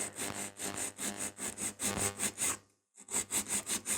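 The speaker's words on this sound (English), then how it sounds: "I'm using 100 grit and I'm going to file the side of the nail." A 100 grit file shapes the side of a fingernail in quick, even back-and-forth strokes, a close, soft rasping rhythm that pauses once briefly before resuming.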